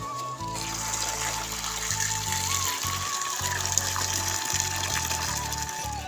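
Water being poured into a basin to bathe pigeons, a steady running gush with a low hum underneath, continuous and fairly close, with no talk over it.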